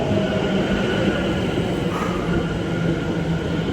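A train runs at a railway platform on a line back to London, a loud, continuous rumble of wheels and carriages with faint squeals, close by and steady throughout, with no talking.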